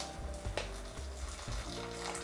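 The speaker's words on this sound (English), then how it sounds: "We're just gonna soak them in some boiling hot water" Boiling water is poured over cashew nuts in a bowl to soak them, making a soft, quiet splashing and trickling sound with a faint low rumble.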